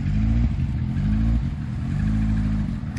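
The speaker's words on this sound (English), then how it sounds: "That Astra F van sounds a bit loud" A mid-1990s Vauxhall/Opel Astra F van engine running loudly at a classic car gathering at Brooklands, a close, rough mechanical drone with brief revving surges and a faint clattering edge.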